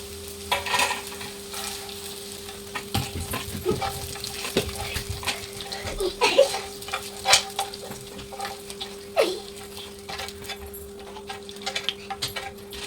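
Paneer frying in oil, heard as a low, fairly quiet sizzle with a faint steady hum beneath it, broken by intermittent scrapes and clinks of a utensil against the pan; no speech.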